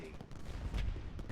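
Musket volleys in the Ultimate General Gettysburg battle game, a quiet ragged crackle of distant gunfire under a dull rumble, lasting about a second and a half.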